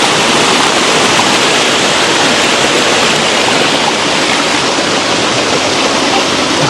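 Water rushes and flows in a loud, steady, unbroken roar that stays even throughout, with no voices or pauses.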